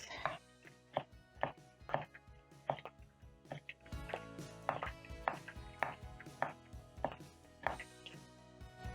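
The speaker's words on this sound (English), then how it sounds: "Get back to chopping my onions and tomatoes." A knife chops onions and tomatoes on a board while Kenyan smokie pasua is prepared, a steady series of quiet, evenly spaced cuts with faint background music underneath.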